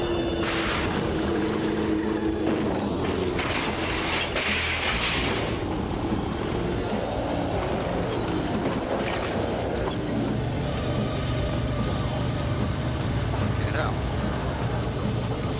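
Motorcycle engines roar through a bike chase scene in the film I Bought a Vampire Motorcycle, a dense continuous drone of revving engines mixed with other action noise, loud and unbroken throughout.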